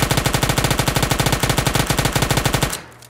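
Rapid automatic gunfire from the PUBG Mobile battle royale game, a loud, evenly spaced burst of shots held for almost three seconds before cutting off into quiet.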